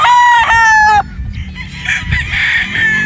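A straight-combed Escolin White gamefowl rooster lets out one loud, close crow lasting about a second. Softer clucking and rustling farmyard noise follow.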